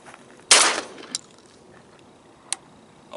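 A Remington 58 shotgun fires a single Federal 7.5 shot load at a patterning target outdoors, one sharp loud blast with a brief tail, followed by light mechanical clicks and a small clack.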